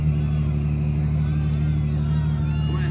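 Ferrari F12 Berlinetta V12 engine in the racing game The Crew 2, a steady loud droning rumble with a faint rising whine near the end.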